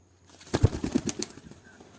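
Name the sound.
pigeon cooing and flapping wings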